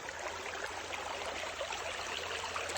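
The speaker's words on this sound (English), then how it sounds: "When I stay in this living, moving, beautiful stream of, like, just pure water." A natural stream flows in a steady, faint, hissing rush of water, continuous and even throughout, with no voices.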